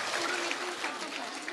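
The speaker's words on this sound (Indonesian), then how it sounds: "Tepuk tangan untuk Bu Aprilia." Audience applause at a morning Islamic study gathering, a steady wash of clapping from the crowd lasting the whole short moment without a break.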